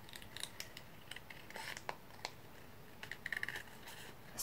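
Scissors cut around paper for a handmade window envelope, producing a series of close, crisp snips in irregular bursts over a quiet background, with no talk.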